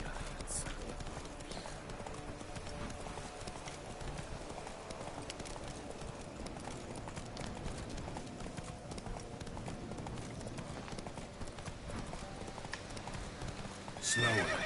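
In The Witcher 3, the horse Roach gallops with rapid, rhythmic hoof clip-clops over a continuous outdoor game soundscape, and a whinny or snort comes near the end.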